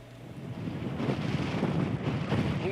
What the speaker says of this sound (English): The strongest winds that we have felt by far. Winds gusting near 40 miles an hour right now.